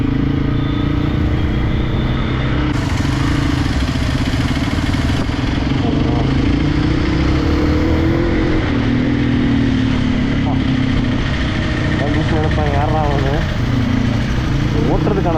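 A Hero XPulse motorcycle fitted with a CM titanium full exhaust system is ridden off-road, its engine a loud, steady droning rumble close by, with a rider talking over it throughout.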